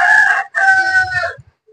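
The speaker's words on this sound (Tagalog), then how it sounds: "Kumilawak na naman yung manok, mga kabahay" A rooster crows loudly and close by, one long call with a brief break in the middle, ending in sudden quiet.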